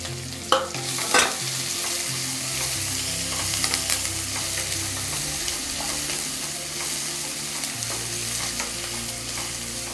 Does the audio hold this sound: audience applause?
no